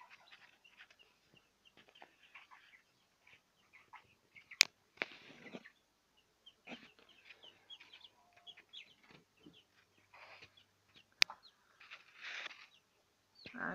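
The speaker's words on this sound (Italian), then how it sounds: "Ma guarda quello, ha spaventato questa gallina." A hen clucks in scattered, soft bursts near a brood of chicks, with a few sharp louder clucks breaking through quiet gaps between the calls.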